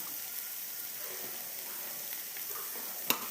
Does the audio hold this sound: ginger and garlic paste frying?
yes